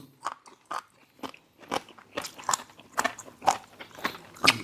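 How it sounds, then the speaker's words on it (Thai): Someone bites and chews crunchy bullet-head jellyfish up close, a run of sharp crisp crunches in uneven rhythm, loud and clear with no talking. "กรอบมาก ดูแมงกระพรุนหัวกระสุนค่ะ"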